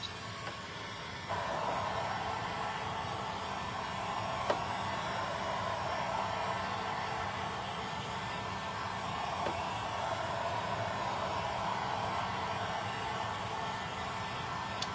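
Hair dryer blowing on a crushed glass canvas craft project, a steady unbroken whir that starts after a moment and runs on evenly, close and moderately loud with no talk.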